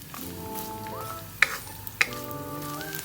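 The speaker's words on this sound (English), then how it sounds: "Then add diced coconut. Saute around" Diced coconut sautéing in coconut oil for a Kerala beef roast, a steady close sizzle with a faint hum, punctuated by two sharp metallic spatula clinks against the pan.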